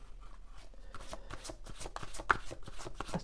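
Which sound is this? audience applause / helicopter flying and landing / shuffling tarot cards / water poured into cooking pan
shuffling tarot cards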